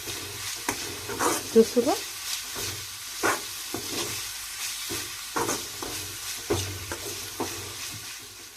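Tender tamarind leaves fry with onions in a pan, with quiet sizzling broken by repeated scraping strokes of a spoon while someone speaks briefly.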